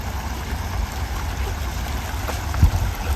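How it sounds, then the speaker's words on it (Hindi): Small stream (nala) flowing low after light overnight rain, a steady soft rushing of water with faint gurgles, continuous and moderately near, no voices. "नाला भी बिल्कुल कम ही बह रहा है अभी फ़िलहाल"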